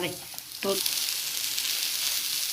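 Sliced onions sizzle steadily in a little hot oil, a loud continuous hiss after a brief clatter as they go into the pan.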